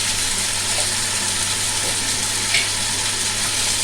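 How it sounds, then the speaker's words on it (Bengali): Chhana and spices, including dry chilli powder and garam masala, fry in a pan with a dense, steady sizzle and faint scraping of stirring throughout, no voices. "এবার সবগুলোকে আমি ভালো করে কষে নেব"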